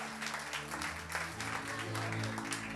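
A church congregation applauds in a dense, sustained burst of clapping that fills the room, with a faint voice and low musical tones underneath.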